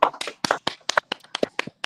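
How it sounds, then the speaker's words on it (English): Quick hand claps in a rapid, slightly irregular rhythm, a dozen or so sharp close smacks on a morning radio show. "come on, clap"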